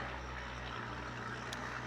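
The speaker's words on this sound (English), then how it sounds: "That's a dump truck going by if that's loud." A dump truck passing outside, heard as a steady low rumbling drone that holds at an even level for the whole stretch, with no talking over it.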